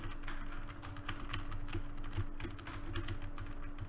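Rapid computer keyboard key presses used to fire in an Asteroids game being built, steady clicking taps over a constant electrical hum, close and alone without speech.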